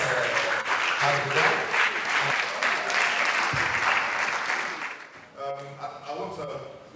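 Conference audience applauding its panelists at a technical session on shipping, steady clapping that fades toward the end as a voice talks over it.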